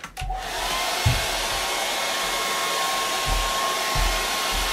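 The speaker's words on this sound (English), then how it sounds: "Again, hair dryer." A hair dryer runs steadily and loudly throughout, speeding up the drying of quick-dry varnish on an acrylic and charcoal portrait, with a constant whine and a few soft knocks beneath.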